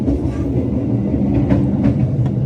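Menoreh overnight train on the Semarang–Jakarta line after leaving Pekalongan station, heard from inside the carriage: a steady low rumble of wheels on rails with faint periodic clicks, continuous and moderately loud, no talking.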